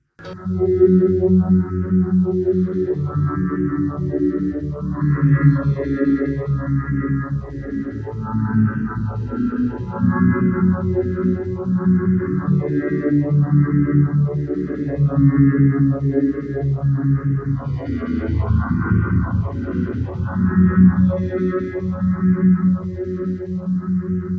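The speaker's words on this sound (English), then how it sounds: "I'm going to stick the Uni-Vibe and the phaser over the top of that" Bass guitar notes swirl and pulse through Uni-Vibe and phaser pedals, with sweeping, warbling tones rising and falling rhythmically throughout.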